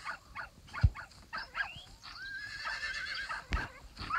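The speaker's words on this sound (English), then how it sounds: "I just saw a horse trying to get out." A horse in the video game Ultimate Fox Simulator 2 lets out a long, close whinny, preceded by clip-clopping hooves and snorts, with no talking.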